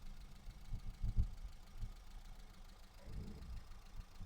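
A Volkswagen Brasília engine idles quietly nearby with a low, uneven rumble and a couple of soft throttle swells.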